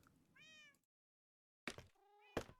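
Two synthesized cat meows from Minecraft, the first quieter and clear with harmonic tones, then after a brief silence a louder meow flanked by sharp broadband hits, all without talk.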